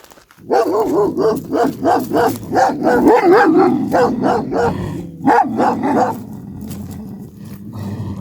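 Two yellow dogs growl and bark at each other at close range, loud rolling snarls broken by repeated sharp barks before easing into lower grumbles.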